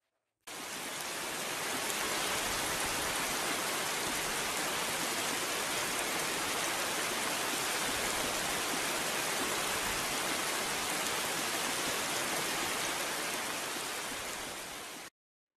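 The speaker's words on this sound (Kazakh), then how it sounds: "Яғни жаңбырдың даусы екен." Steady rain falling on a surface, a dense continuous hiss of drops that fades in and holds evenly loud for about fifteen seconds before cutting off, with no voices.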